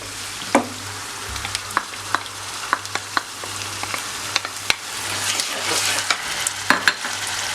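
Minced meat fries in a pan with pepper paste and grated tomato for an onion stew, giving a steady sizzle broken by regular sharp spoon taps and scrapes against the pan, with a low hum underneath.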